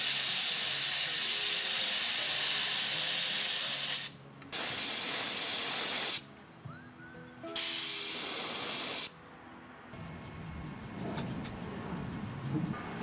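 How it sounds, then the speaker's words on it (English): Bursts of an airbrush spraying black paint onto a cricket fishing lure, three long hissing passes separated by short pauses, followed by softer rustling and handling noises. "I'm gonna spray very lightly some black to set the belly off"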